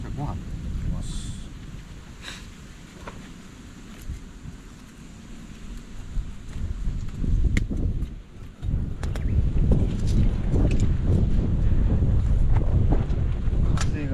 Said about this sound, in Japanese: 風が